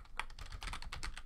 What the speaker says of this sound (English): go to your Chrome browser and type in